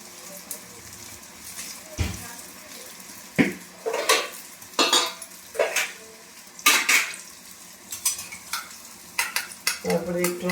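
Cumin and turmeric sizzle in hot oil in a pan for a soybean potato curry, as a metal spoon scrapes and clanks against the pan in irregular bursts close by.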